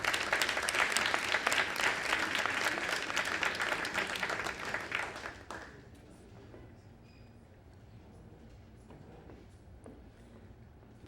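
Audience applause at an annual graduates' gala, loud, dense clapping for about five and a half seconds that then stops abruptly, leaving a quiet room with faint scattered sounds.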